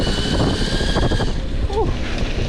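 A CYC X1 Pro Gen 2 electric bike motor runs at full throttle, a loud steady whirring drone under heavy wind rush, with a brief voice breaking in partway through.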